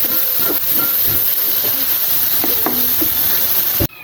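Beetle adobo (adobong salagubang) sizzles in a pan over medium heat, a loud steady hiss of frying with faint clinks and stirring, close up, ending abruptly.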